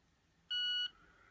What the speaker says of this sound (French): Un petit bip.